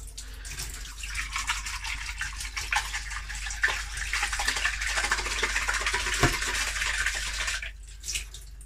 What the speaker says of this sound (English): the water should flow out faster than it can flow in